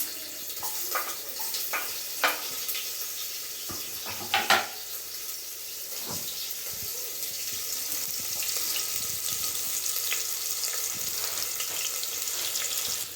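Chopped onion frying with mustard seeds in a pan for sambar, a steady hiss and sizzle with a few sharp pops and clinks early on, continuing evenly throughout.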